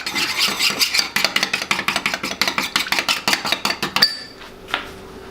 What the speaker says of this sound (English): I've melted half a stick of butter, and we're going to put some Garlic 101 seasoning in, just a dash. Mix that up.